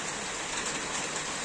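Steady rain hisses outdoors during a storm, a dense and even wash of sound with no breaks over the short stretch.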